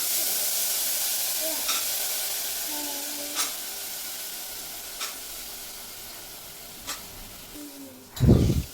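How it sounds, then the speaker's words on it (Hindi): Steady frying sizzle and hiss fill the clip, with a few faint clinks, then a louder burst of sizzling near the end as vegetables hit the hot tempering pan. "तो बस सब्ज़ी मैंने यहाँ पर छौंक दी है"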